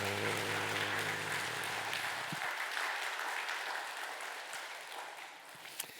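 A church congregation at a Sunday worship service claps vigorously together, a continuous wash of many hands that stays steady throughout, with a low hum in the first part that cuts out midway.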